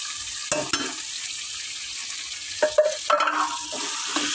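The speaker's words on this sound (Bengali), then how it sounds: "এবার এই কাঁকড়াটা এবারে ঢেলে দিচ্ছি।" Crabs tipped into a hot pan, with bursts of clattering and splashing as they land, then a steady frying hiss between the thuds; close and fairly loud, no speech.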